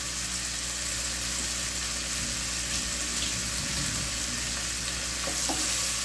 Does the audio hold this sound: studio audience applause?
no